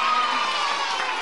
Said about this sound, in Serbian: jedan aplauz, jedno je za vašu Lidiju